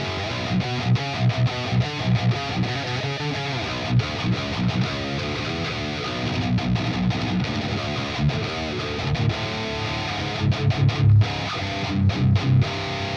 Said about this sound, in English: a lead guitar sound with the Nameless X plugin